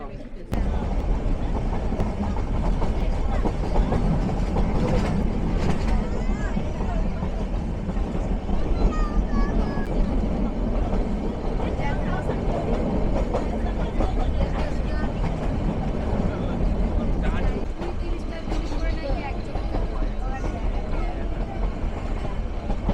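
The Nilgiri toy train stands at Ketti station on the Ooty to Coonoor line, its loud steady rumble and mechanical drone filling the air with occasional clanks while people talk nearby.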